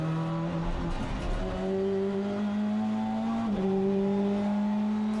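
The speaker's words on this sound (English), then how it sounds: "Here approaching the S's, down the gears, using all the curb as the touring car can take it." A British touring car at Donington Park downshifts into the S's, its engine note stepping down through the gears at close range, loud and alone, with brief tyre and kerb noise.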